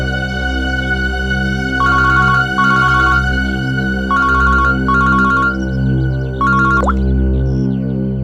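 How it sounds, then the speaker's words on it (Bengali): A phone rings in repeated electronic bursts, several short trills separated by pauses, over a steady low background hum. "ততক্ষণে আমি দয়া স্যারকে একটা ফোন করছি।"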